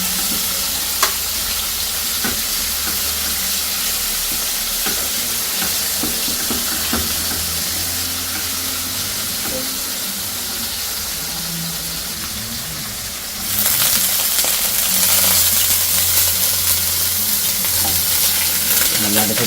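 Chicken breast seasoned with just salt and pepper fries in a hot pan, giving a steady close sizzle with small crackles and stirring, growing louder and brighter near the end.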